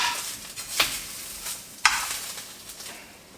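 Food browns and sizzles in a pan, a close crackling fry with a couple of sharper spatters and stirring scrapes, fading slightly toward the end.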